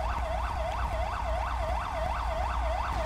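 An ambulance siren in Grand Theft Auto V wails in a steady rapid yelp pattern, rising and falling about three times per second, loud and close over a low engine rumble, with no talk.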